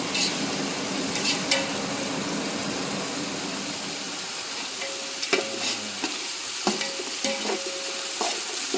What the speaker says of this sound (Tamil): சோம்பு, பட்டை, லவங்கம், ஏலக்காய், வெங்காயம் மூணுத்தையும் எல்லாம் வதக்குறோம் பாருங்கள்.